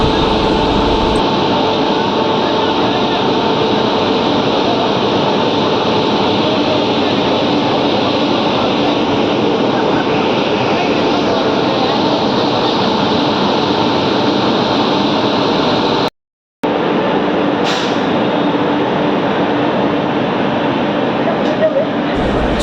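The Valsad Dahod Intercity Express pulls out of Surat station with a loud, steady rail rumble and clatter, and voices and station bustle run underneath.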